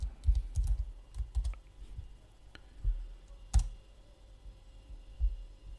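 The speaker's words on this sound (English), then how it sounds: "I'm going to type in git commit, and I'm going to type in first commit." Someone types a git commit command on a computer keyboard, producing scattered close clicks and soft thuds in uneven clusters, with one sharper tap near the middle and quiet pauses between.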